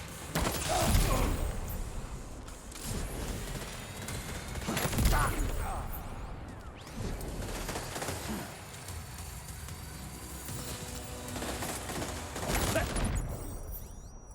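Grenade explosions in the video game Death Stranding 2, a run of broadband blasts at irregular intervals with crackling debris between them, moderately loud and mixed with game sounds.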